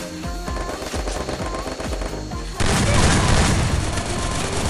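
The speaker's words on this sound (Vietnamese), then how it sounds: "Sao bắn địch vừa nó không chết gì ta?" Rapid automatic gunfire from the Free Fire video game crackles in dense bursts, then swells into a louder, continuous barrage in the second half, close and harsh.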